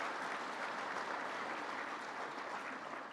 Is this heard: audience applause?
yes